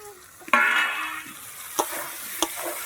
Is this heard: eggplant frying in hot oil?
yes